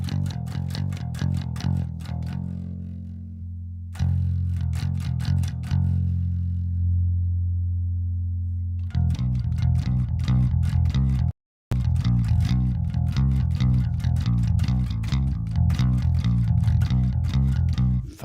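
Bass guitar played through the OVERLOUD TH-U amp simulator app, deep sustained low notes with plucked attacks, a brief pause near four seconds, then a run of rapid rhythmic notes after a short dropout, loud and close with no talking.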